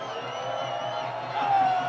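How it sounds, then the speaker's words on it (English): The crowd at a Cardiff Met versus Bath varsity rugby match roars steadily, a sustained distant wash of voices and whistling that swells slightly near the end. "Massive noise from the Cardiff Met crowd"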